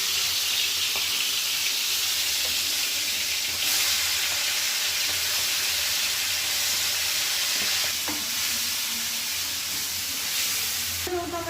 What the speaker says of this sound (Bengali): ভেজে নেব, অল্প হালকা সাঁতলে নেব।